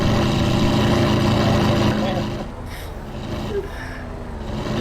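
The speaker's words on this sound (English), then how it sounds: "listen to that idle in that car, bro" A GTA game car with a snake pipe exhaust idles in a rough, burbling rumble. It is loud at first, dips briefly midway, then swells again, with breathy vocal noises over it.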